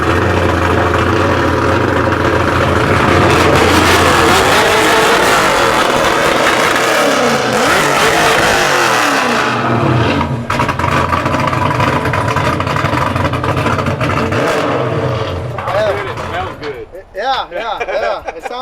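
A Coyote V8-swapped Chevy S10 with a Holley setup revs hard up close, loud rising and falling engine roars, then settles toward a rougher idle with brief dips near the end.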